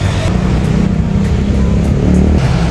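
Vehicles driving along a mountain road at Pico, La Trinidad, Benguet, a steady loud low engine and road rumble throughout with faint passing swells.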